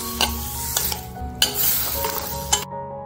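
Vegetables for a veg green Thai curry sauté in a hot pan, with steady sizzling and several clinks and scrapes of a spoon stirring, close and alone before the sound cuts off.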